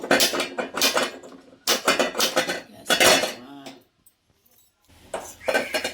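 A metal pot clanks and clatters in several bursts as it is set down on a lit stove, followed by a short quiet pause before more clinking.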